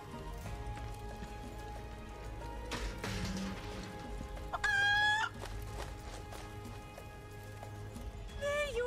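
Chickens clucking in Final Fantasy VII, faint and distant against a steady game soundscape, with short clucks scattered through, a brief rising crow-like call midway and another near the end.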